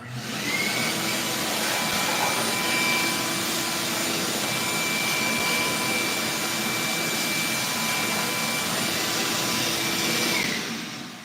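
A vacuum cleaner runs steadily for about eleven seconds, a loud, even rushing drone with a thin high whine on top. It starts and stops cleanly, with no talking.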